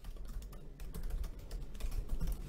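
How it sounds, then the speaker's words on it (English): Rapid, close clicking of keys on a computer keyboard as an email address is typed, a fairly quiet, irregular stream of taps with no talking. "you just simply type in the email address"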